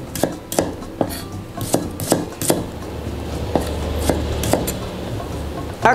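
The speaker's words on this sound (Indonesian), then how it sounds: "Aku iris-iris dulu seperti ini." A knife slices shallots on a cutting board in a steady run of sharp, close, fairly loud chops with short pauses between strokes.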